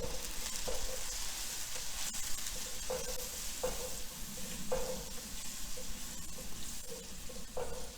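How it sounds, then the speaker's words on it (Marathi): Onion sautéing in oil with turmeric for a bombil (Bombay duck) fish masala, a steady broadband sizzle with a few soft stirring scrapes at intervals and no talking. "थोडी हळद घालायची आणि चांगला कांदा परतून घ्यायचा"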